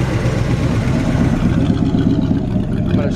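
A 1953 Chevy 3100 five-window pickup truck engine idles with a steady, rumbling low drone, close and continuous throughout.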